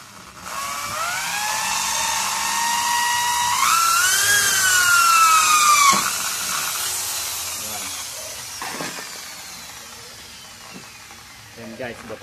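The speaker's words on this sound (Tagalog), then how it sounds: "Magamit tayo ng barena." A power drill bores a hole through recycled material for a DIY tom drum stand, whining loudly with rising pitch as the bit cuts, then stopping, followed by faint handling noise and clicks.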